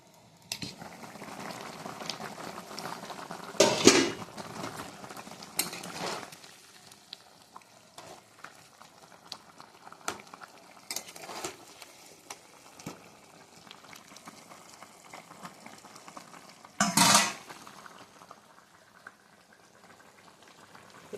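A covered cooking pot of rice boils on a home stove, a steady low bubbling and hiss with a few louder surges, heard alone and close.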